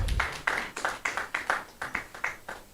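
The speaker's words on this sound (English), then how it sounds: "Please give them a round of applause." Audience applause at a university computer science alumni homecoming, a sparse group clapping in a distinct steady rhythm of sharp near claps, about eight beats.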